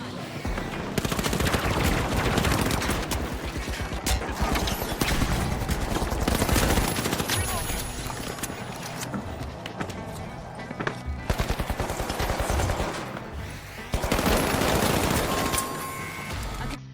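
Video game shootout with dense automatic gunfire, rapid bursts and fusillades close and loud across the whole stretch, briefly thinning midway before another heavy burst near the end.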